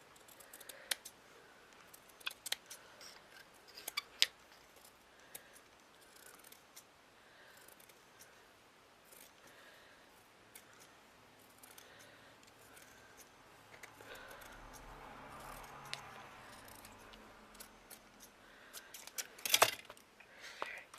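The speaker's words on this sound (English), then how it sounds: "Now I've got to trim it down because it's a little bit long." Several small, sharp scissor snips trim a piece of a miniature altered witch's table, scattered quietly across a soft, low background, with a louder cluster of clicks near the end.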